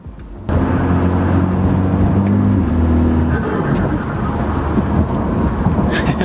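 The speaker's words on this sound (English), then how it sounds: "This car loves to make a lot of noises." A BMW F30 with a flashed transmission tune droning with steady tonal engine harmonics that drop away after a few seconds into broadband road and exhaust roar, loud and close.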